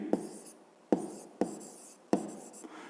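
Pen writing an answer by hand on paper for a fifth-grade maths exercise, heard as four separate bursts of close scratching strokes with short pauses between them, no talking.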